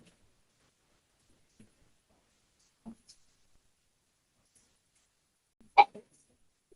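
A single sharp, close sneeze bursts out near the end in an otherwise quiet courtroom-like room, preceded by a few faint, scattered small noises.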